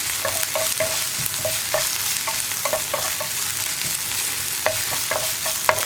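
Ginger garlic paste sizzles steadily as it fries in a pan for a spicy bread snack. A spoon scrapes and stirs it in a repeated, uneven rhythm, close up, with no talking.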